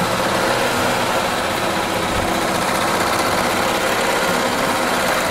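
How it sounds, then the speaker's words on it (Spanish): A sewing machine sewing thick fabric for a pouf, a loud, steady, close-up mechanical whir and rattle that runs without pause and without talk. "que no me digan que no lo hice porque mi máquina no cose grueso"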